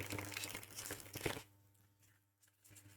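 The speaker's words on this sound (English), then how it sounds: "we are doing a little bit of ASMR shuffling to go in with it as well this week" Gilded Tarot Royale tarot cards shuffled by hand in a close, crisp riffle of papery crackles for about a second and a half, then quiet with a few faint card rustles.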